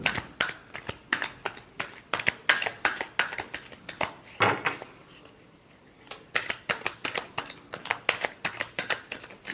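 Tarot cards being shuffled in a rapid series of crisp riffles and flutters, close and fairly soft, with a brief pause midway before the shuffling resumes.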